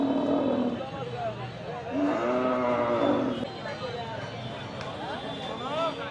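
At a crowded Qurbani cattle market in Bangladesh, a cow gives several long, deep moos in succession, close and loud, while someone talks over the bellowing amid the background bustle.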